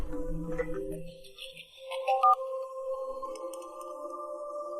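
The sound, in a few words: mobile phone ringing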